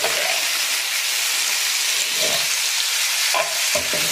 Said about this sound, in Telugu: ఇప్పుడు కాకరకాయ వేస్తాను.